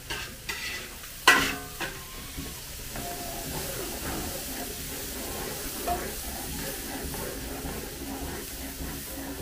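Chopped onions dropped into garlic frying in a pan for pancit and spaghetti at a birthday feast, a brief loud clatter and hiss followed by a steady, moderate sizzle and stirring.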